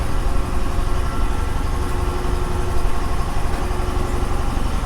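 A 2021 Harley-Davidson Heritage with the 114 engine idles in a steady, loud, close rumble that holds evenly throughout without revving.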